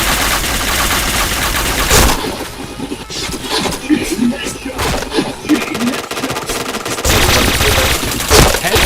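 A shooter video game's guns fire in rapid bursts, loud and close, with a quieter stretch of scattered shots in the middle and people talking over the action.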